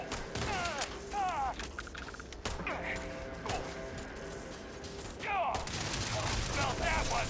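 Gunfire in the space game Starfield, sharp bursts of shots and impacts arriving in clusters with mechanical clatter, under a voice and in-game talk.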